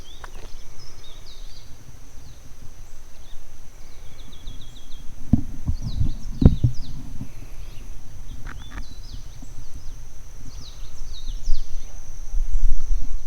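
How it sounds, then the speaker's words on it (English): Birds chirp and call intermittently in the forest of Lava Tree State Park on Hawaii's Big Island, short calls scattered over a steady insect drone, with a few nearby knocks and footsteps. "I love listening to the birds"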